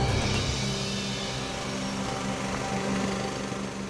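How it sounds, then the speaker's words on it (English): A small air compressor runs outdoors in a winter storm, giving a steady, continuous engine-like drone with a faint rattling hum that holds level throughout. "got the compressor running."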